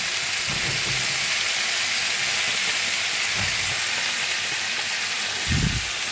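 Prawns seasoned with a little salt and turmeric fry in hot oil in a pan, giving a loud, continuous close-up sizzle with a few soft low bumps scattered through.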